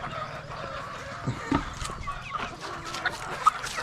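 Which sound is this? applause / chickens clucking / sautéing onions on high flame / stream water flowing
chickens clucking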